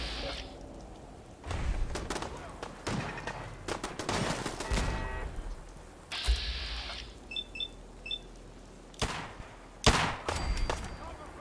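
Shots ring out in bursts during a Fallout 4 fight, loud volleys separated by quieter gaps, with a few brief electronic tones mixed in.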